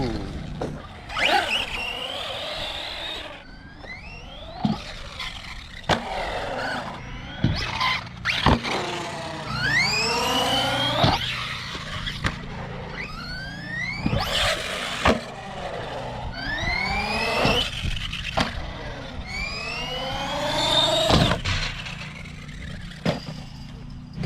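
An Arrma Kraton 4S V2 RC car drives at a skatepark, its electric motor whining in rising, swooping bursts as it accelerates and wheelies, with clattering impacts and squeals between runs, fairly loud and close.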